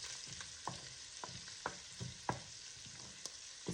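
Onions, celery, peppers and carrots hitting a pan with crumbled cooked Italian sausage for tortellini soup, with soft steady sizzling and repeated clicks of stirring, close and fairly quiet, no talk.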